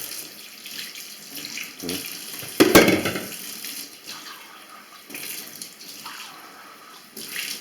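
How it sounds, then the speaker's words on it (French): Hot water runs from a tap into a steel sink being rinsed after polishing with steel wool and toothpaste, a steady close splashing rush with one louder gush partway through and no voices. "vous répétez l'opération avec de l'eau chaude"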